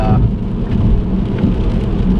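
Steady rain drums on a BMW 328 while it is being driven, a dense, continuous hiss and patter over a low road rumble, with no talking.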